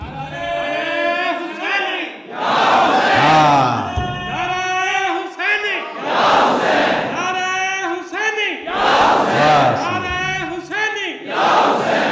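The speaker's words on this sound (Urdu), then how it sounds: "جب محرم کے دن ہو تو ایک نعرہ حسینی لگایا کرو، اور نعرے میں کہا کرو یا حسین" A gathered crowd at a religious lecture chants the slogan Ya Hussain in loud, repeated voiced bursts, roughly one call every few seconds with brief dips between.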